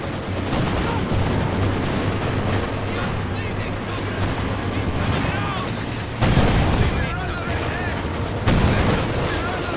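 Machine gun fire rattles in rapid bursts amid heavy battle noise in the Company of Heroes 2 strategy game on PC, with sharper louder bursts near the end and game voices mixed in.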